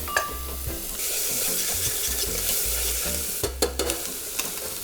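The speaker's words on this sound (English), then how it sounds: "Going to add some oil in there. Going to add some onion. That's what you want to hear." Steady sizzling of onions and thyme frying in hot oil, continuous and fairly close, with occasional stirring clatter near the end.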